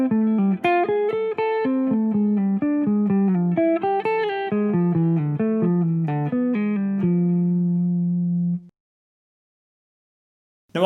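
A jazz line of fast sixteenth notes played on a single melodic instrument, steady and close, running about eight seconds before stopping into silence.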